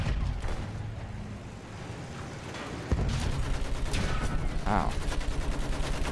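Steady gunfire in the video game Battlefield 1 rattles on through a conquest battle, a dense mix of rapid shots and distant booms that grows louder halfway through, while a player briefly reacts in pain.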